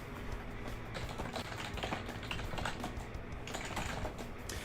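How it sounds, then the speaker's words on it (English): Rapid typing on a computer keyboard during a live Summoners War session, a quiet stream of irregular key clicks and taps running continuously, close to the microphone. "Why am I typing to you?"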